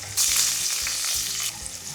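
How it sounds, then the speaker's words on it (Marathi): Mustard seeds, cumin, asafoetida and curry leaves hitting hot oil, a sudden bright hiss that stays loud and sputtery, with small pops and soft thuds of stirring underneath, close up. "याला परतून घ्यायचं चांगलं।"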